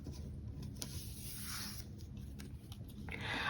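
Scissors cutting through planner paper pages, close and quiet, with soft crisp snips and paper rustle over a low room hum.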